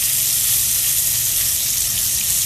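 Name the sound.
bacon-wrapped pineapple searing in a frying pan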